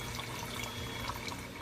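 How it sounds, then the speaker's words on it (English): Water pouring into a pressure cooker holding seasoned meat, a steady broadband splashing stream running continuously throughout at close range with no voices. "just added the water"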